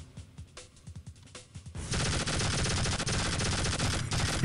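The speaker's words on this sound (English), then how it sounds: "It's just a twin chain gun." Twin chain gun firing in the video game Tribes: Vengeance, a few scattered shots and then a sustained, loud, rapid stream of automatic fire running to the end.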